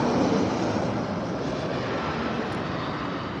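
Airplane noise near Atlanta's airport forms a loud, steady, broadband roar that fills the clip without a break. It sounds like a nearby aircraft engine rumbling overhead.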